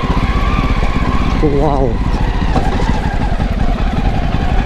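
A classic motorcycle engine rumbles loud and close throughout while climbing an extremely steep, bad road between Phangrei and Khangkhui caves, with a brief exclamation from the rider over it.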